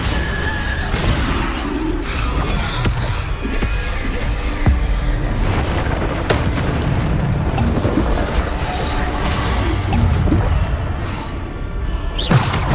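Bombarda spell blasts go off repeatedly in Hogwarts Legacy combat, a dense, loud stretch of booming impacts and crashing debris layered over constant battle noise, with no pause between hits.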